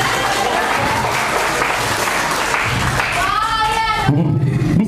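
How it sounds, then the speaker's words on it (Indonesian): Audience at a hypnotherapy seminar held at a polytechnic applauds loudly and steadily; near the end the clapping thins and a voice with tonal speech-like sounds cuts in over it. "Tepuk tangan"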